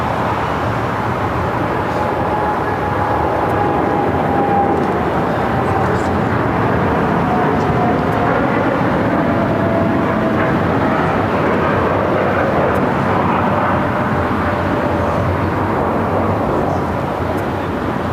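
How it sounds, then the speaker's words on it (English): A United Dreamliner roars steadily through its takeoff on the south side, a continuous broad rumble holding at high level from start to finish, with faint whining tones drifting under it and a voice speaking in the background. "United Dreamliner taking off here on the south side."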